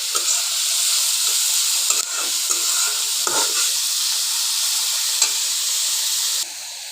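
Onions fry in oil in a pan, a steady close sizzle and hiss with occasional crackles and brief stirring scrapes that drops slightly in level near the end.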